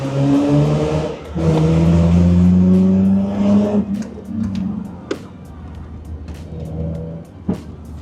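A Mazda RX-8 rotary engine revs loudly and steadily for a few seconds, heard from behind the car, drops back, then idles lower with a few sharp clicks and pops.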